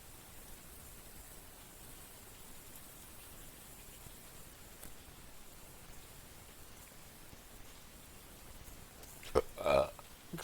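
A single short burp in a Minecraft gaming session, arriving near the end as a brief low voiced belch over a steady faint hiss.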